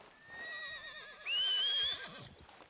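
A horse neighs loudly in Red Dead Redemption 2, a long wavering whinny that swells into a strong high cry, then trails off over faint hoof and ambient sounds, with no talk.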